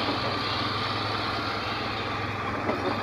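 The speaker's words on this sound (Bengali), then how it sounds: "এই যে মোটরসাইকেল যেতেও খুব কষ্ট হচ্ছে" A motorcycle engine drones steadily and close as it labors along a rough, potholed road near Bichanakandi in Sylhet, a constant mid-pitched hum with no speech.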